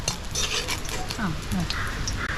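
Black pepper and cumin fry in a little oil in a pan, a continuous close hiss and crackle with occasional clinks of a utensil and a voice talking over it.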